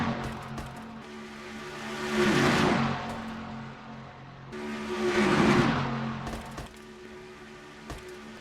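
Race cars in a pack at Daytona in an IROC-series racing game, engines droning steadily with two loud swelling passes as cars roar close by, a few clicks and a faint tire squeal mixed in.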